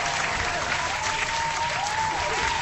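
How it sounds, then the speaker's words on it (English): An audience breaks into steady, dense applause for a preacher named Tyrone, many hands clapping together at an even volume with no voices on top. "clap for him one more time, y'all"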